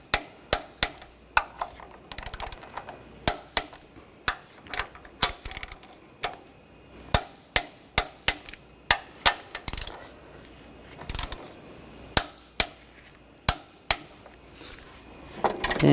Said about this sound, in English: Now I'll torque these to 45 foot-pounds.